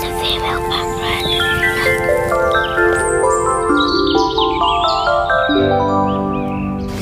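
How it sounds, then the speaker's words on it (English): Birdsong in an urban garden, a series of clear melodic chirps and whistled phrases close by, varying in pitch, with a female blackbird present among the garden birds. "It's a female blackbird."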